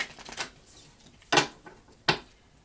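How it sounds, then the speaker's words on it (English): Tarot cards being shuffled by hand give soft riffling rustles, then two distinct sharp snaps of the deck, close and fairly quiet. "So I did a lot of shuffling, all right, already. We'll do a little bit more."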